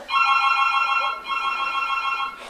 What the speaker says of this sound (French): Betty, il y a le téléphone.